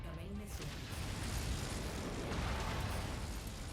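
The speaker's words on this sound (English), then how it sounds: "Incoming missile." A missile explosion in the mech combat game Mechwarrior 5 booms and then rumbles on as a dense, noisy blast lasting several seconds, fairly close.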